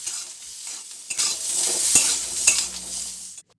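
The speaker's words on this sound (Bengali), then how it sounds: "আলুগুলো যতক্ষণ ওখানে ভাজা হচ্ছে" Potatoes frying in a pan with salt and turmeric give a steady sizzle, with a few sharp clinks and scrapes from stirring. No one talks, and the sound stops abruptly at the end.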